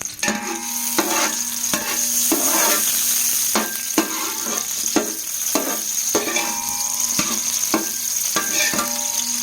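A spoon repeatedly scrapes and stirs lemon into food sizzling in a pan for beef pulao, with rhythmic clinks against the metal over a constant frying hiss.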